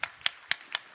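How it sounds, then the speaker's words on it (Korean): Church congregation clapping in a sanctuary, four or five sharp separate claps spaced evenly, faint and somewhat distant with no talk over them. "하나님께 영광의 박수 올립니다."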